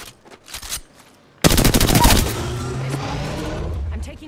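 Gunfire in the video game Apex Legends: a few scattered shots, then a sudden loud burst of rapid automatic fire that gives way to a sustained noisy rumble, with a voice speaking faintly underneath.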